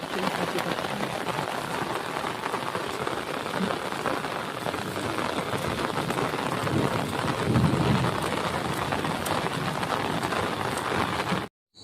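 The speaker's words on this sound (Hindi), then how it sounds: "आज वर्षा" Steady outdoor rain falling near a river, a continuous dense hiss of drops that stays fairly loud throughout with no speech, then cuts off abruptly at the end.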